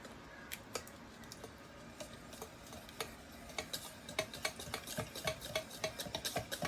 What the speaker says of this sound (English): Now mix all the ingredients together until the mixture is creamy and smooth.